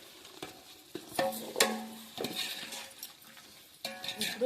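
Masala being stirred into mutton boti pieces for a dum biryani cooked over a wood fire, with soft scraping strokes and a few sharp clinks of the spoon against the pot amid a low sizzle.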